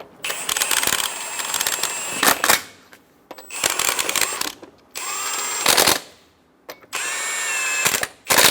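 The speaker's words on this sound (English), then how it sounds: "Snug the lug nuts down." An impact wrench snugs down the lug nuts on a 2014-2018 Chevrolet Silverado 1500 front wheel, sounding as four loud, separate bursts of whirring and hammering, each one or two seconds long and divided by short pauses.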